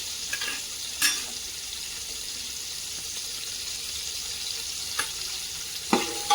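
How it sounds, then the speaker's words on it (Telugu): Vegetables for a home-made dum veg biryani fry in hot oil with a steady, close sizzle, broken by a few faint clinks of stirring. "ఆయిల్లో వేసుకుంటే మంచిగా ఫ్రై అవుతుంది. ఫ్రై అయితే అవుతున్నాయి."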